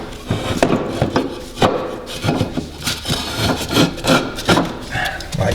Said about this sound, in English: You just jam a piece of wood in there, just find a position,